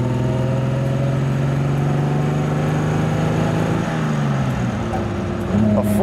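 A 1947 Alfa Romeo classic car engine hums steadily while driving on the road, a mid-pitched drone that shifts as it changes speed near the end.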